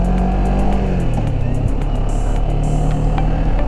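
A 2019 CF Moto 400 NK motorcycle is ridden with a loud, continuous engine drone and wind rush throughout, holding steady without any break.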